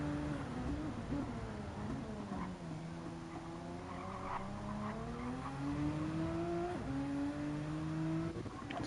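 A GR3 race car engine on an onboard lap at Spa in Gran Turismo howls steadily, its pitch dipping and climbing through gear changes and corners, with faint tire squeal, continuous and fairly quiet.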